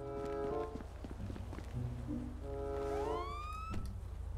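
Police car siren in GTA 5 Online, a wailing tone sweeping up in pitch over steady game engine hum and footsteps, fairly loud and continuous.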